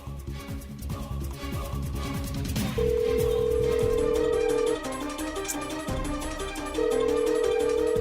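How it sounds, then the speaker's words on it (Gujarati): An outgoing telephone call ringing in a Gujarati TV serial scene: two long, steady ringback tones, separated by a gap, sound loudly over background music. "સેજલને ફોન કરું."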